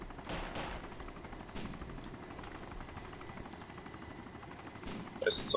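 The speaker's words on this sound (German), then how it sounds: "Der Heli schießt auf die Base." A helicopter in the DayZ video game fires guns at a base, its rotor thrumming faintly under scattered, rapid bursts of distant gunfire throughout.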